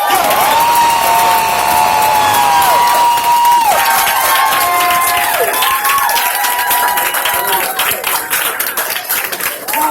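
A large crowd at a direct sales event applauds and cheers loudly, with clapping mixed with whoops and shouted voices, sustained and energetic throughout before thinning slightly at the end.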